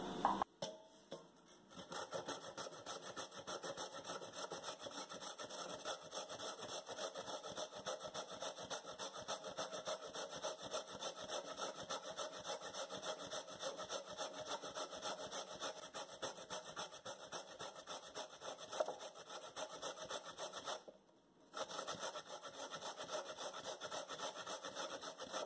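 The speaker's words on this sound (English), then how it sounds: "I'm using the smallest part to shred my coconut" Coconut is shredded on the smallest holes of a hand grater over a wide pan, a quiet, steady back-and-forth rasping that keeps an even rhythm for a long stretch, broken by one brief pause near the end.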